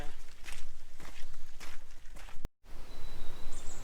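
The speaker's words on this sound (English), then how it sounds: "you've got the sound of your feet directly behind the camera" Footsteps crunch steadily through woodland just behind the camera, rhythmic and close, with a brief cut and faint birdsong in the background.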